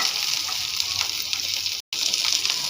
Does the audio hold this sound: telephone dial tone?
no